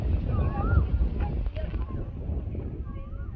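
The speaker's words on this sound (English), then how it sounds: "Look, it's windy." Wind buffets the microphone with a low, gusty rumble outdoors at Sukhna Lake in Chandigarh, and faint birdlike chirps come through in the background.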